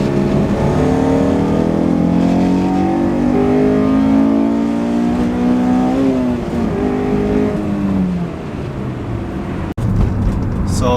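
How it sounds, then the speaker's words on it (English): A Honda S2000's exhaust climbs through hard acceleration pulls, the loud engine note rising steadily as it hits VTEC, then dropping after a brief cut before picking up again. "the exhaust definitely comes alive whenever you hit VTEC"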